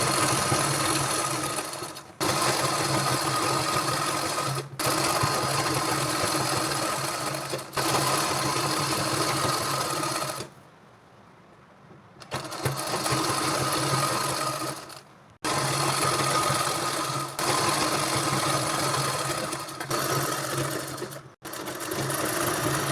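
Sewing machine stitching a pico edge on a saree, running in loud steady bursts of rapid mechanical whirring with short pauses between runs and one longer stop midway, close up with no talking.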